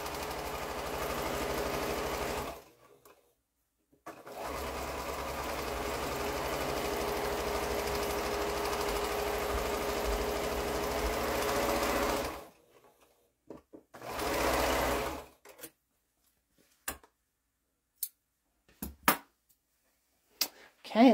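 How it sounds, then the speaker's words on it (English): A sewing machine stitches a quilt block seam in two long bursts of rapid, even whirring, then a short third burst, followed by quiet with scattered light clicks and handling sounds. "let's sew this last seam, give it a press"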